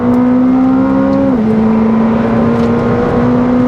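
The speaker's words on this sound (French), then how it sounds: "On accélère un peu, on écrase." McLaren 765LT Spider engine revving hard under acceleration on a tight, twisty road, a loud steady tonal drone whose pitch dips briefly and then holds, with no talk over it.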